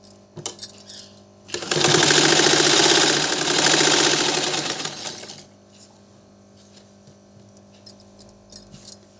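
A sewing machine stitches a two-colour kameez in one steady, loud run of about four seconds, framed by quieter handling clicks and rustles before and after.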